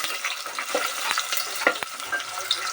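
Onions frying in a pan for Bengali mutton kosha, a steady close sizzle broken by sharp scrapes and clacks as a utensil stirs them, with no talking.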